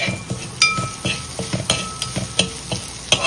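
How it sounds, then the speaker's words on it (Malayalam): Avil uppumavu with carrot and ginger is stirred in a frying pan, a spoon scraping and clinking against the metal in irregular strokes over a soft, steady sizzle, close and fairly loud with no talking. "അപ്പോൾ ഇടയ്ക്കൊന്ന് നമ്മൾ അതൊന്ന് ഇളക്കി കൊടുക്കണം കേട്ടോ."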